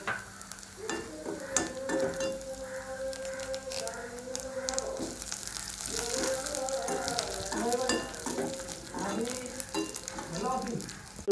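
Dried red chillies and curry leaves crackle in hot oil as tempering for a tomato pachadi, a steady close sizzle with stirring running throughout, while a voice talks over it.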